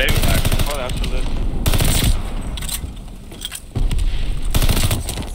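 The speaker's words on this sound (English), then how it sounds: "Okay, team shoot with me, Johnny." Rapid automatic gunfire in a team shooter video game, dense bursts and single shots crackling loud and close for several seconds while players talk over it.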